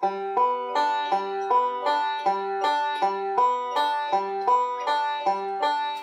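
Bright plucked banjo notes in a steady repeating rolling pattern, with accented off-beat groupings, played solo and close.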